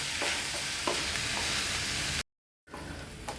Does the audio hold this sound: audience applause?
no